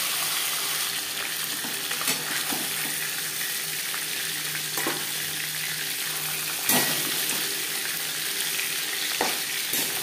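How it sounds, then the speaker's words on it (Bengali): Rohu fish head fries steadily in a pan of hot oil, giving a continuous close sizzle with scattered pops and occasional clinks of stirring throughout. "প্রথম ব্যাচে মাছের মাথা ভাজা হয়ে গেছে।"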